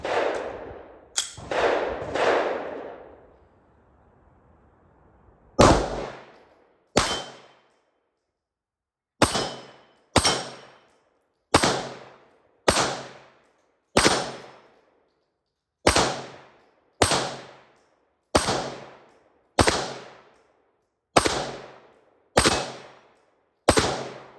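Gunfire from a final magazine at an outdoor range: a few rapid loud shots at the start, then a long series of single sharp reports spaced about a second apart, each with a short echoing decay.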